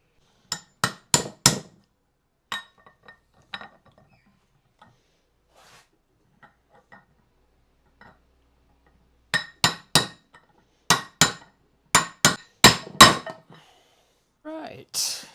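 Sharp metallic hammer strikes while pressing a bearing into a Honda Civic flywheel, coming in quick clusters of three to five blows separated by quieter pauses with faint handling sounds, close and loud.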